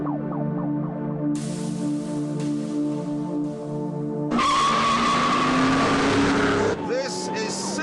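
A Lotus Exige and a Ford Mustang race on a short circuit: a droning engine note with rising and falling revs gives way to a loud, rushing roar as the cars pass close by.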